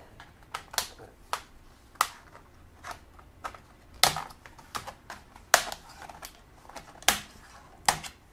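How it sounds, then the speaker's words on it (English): Metal pry tool popping the plastic retaining clips of a Lenovo G70 laptop keyboard, a string of sharp, close clicks and snaps at irregular intervals with no talking. "I'll take my small flat metal pry tool. And I'm gonna start unclipping this keyboard."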